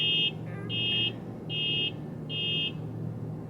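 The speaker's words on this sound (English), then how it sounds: "someone's car alarm literally just went off as I said that" A car alarm going off outside, sounding as a repeating electronic tone in four evenly spaced bursts with short gaps between them, heard against a low background hum.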